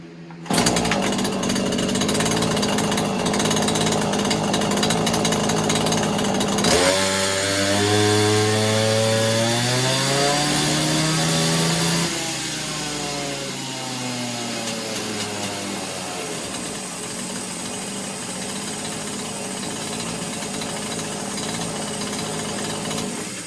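A Neotec 843 chainsaw, a 43cc clone of the Husqvarna 543XP, runs wide open on a dyno pull with its muffler opened up. It holds a loud, steady high-rev scream, bogging down into a falling, sweeping pitch midway before settling again, with nobody talking.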